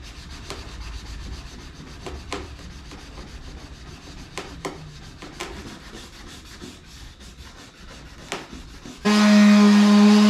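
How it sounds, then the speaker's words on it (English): Sandpaper is rubbed back and forth over a part being prepped for primer, making scratchy strokes and occasional knocks. Near the end a louder, steady noise abruptly takes over. "hope you guys enjoy watching me just sanding this thing"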